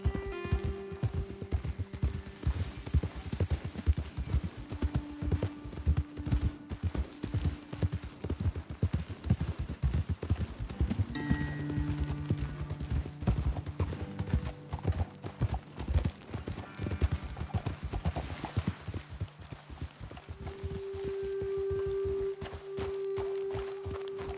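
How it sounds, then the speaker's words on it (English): Horses walk along a trail in the video game Red Dead Redemption 2, their hooves clip-clopping in a steady, close rhythm for the whole stretch, with a faint snort now and then and a low game soundscape behind. "Okay, let's dismount here. Best leave the horses back a bit."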